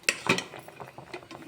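A utensil works cooked rice and sorghum flour dough in a metal pot, a quick burst of close scraping clinks and knocks, sharp at first then softer, with no talk.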